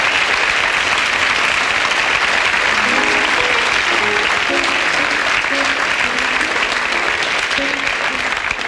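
Sustained, dense applause from a concert audience after a blues song, a loud even roar of clapping throughout with faint voices underneath.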